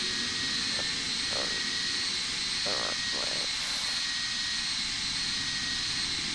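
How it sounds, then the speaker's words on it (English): A plane taking off in the Roblox flight game Flightline: a steady, loud engine roar that holds without pause throughout, with a few brief muffled knocks and murmurs beneath it. "I want you guys to see what it looks like to see another airplane take off"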